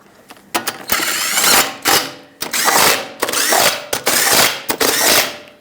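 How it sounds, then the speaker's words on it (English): A ratcheting wrench tightens lug nuts on the front wheel of a 2006-2011 Honda Civic, giving loud, close bursts of rapid mechanical clicking in about five repeated pulls with short pauses, no talking. "Put back all 5 of your lug nuts, snug them up in a cross pattern, and also in a cross pattern, torque them to 79 foot-pounds."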